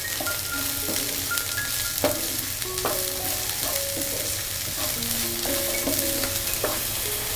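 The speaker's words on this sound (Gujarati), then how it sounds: "અને ફરી આપણે બધું 1 મિનિટ જેવું સોતે કરી લેશું" French beans and chopped carrots sautéing in a pan for vegetable fried rice, a steady close sizzle with repeated scraping stir strokes throughout, no voices.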